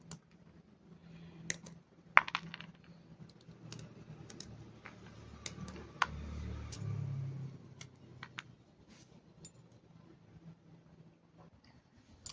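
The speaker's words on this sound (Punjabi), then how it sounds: "ਬਦਾਮਾਂ ਦੀ ਇੱਥੇ ਕਰ ਲੈਨੇ ਆਪਾਂ ਕਟਿੰਗ ਇਸ ਤਰ੍ਹਾਂ ਲੰਬੇ ਪੀਸਾਂ ਵਿੱਚ ਆਪਾਂ ਕੱਟ ਲਾਂਗੇ ਕਰਦ ਦੇ ਨਾਲ" Almonds cut into long slivers with a knife on a board while rice kheer is being made: a string of quiet, sharp clicks and taps, scattered irregularly over a low background hum, with no talk.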